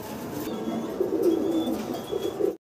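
A pair of Blue Satinette pigeons coos close by, a steady low murmuring series of throaty coos that runs without a break for a few seconds.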